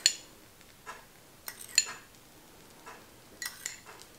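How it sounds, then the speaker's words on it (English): A spoon clinks lightly against a dish while lemon glaze is spooned over the top of a lemon loaf: several soft, close taps spread unevenly, with quiet pauses between. "we are going to spoon our glaze all over the top of the loaf"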